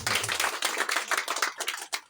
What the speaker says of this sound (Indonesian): Tepuk tangan ini untuk Pak Darham